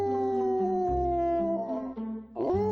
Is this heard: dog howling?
yes